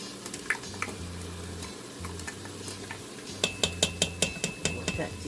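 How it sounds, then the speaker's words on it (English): Garlic sautéing in olive oil in an Instant Pot, soft sizzle under a steady low hum, then a run of regular scraping clicks from stirring with a utensil against the pot. "now let's get our garlic in here"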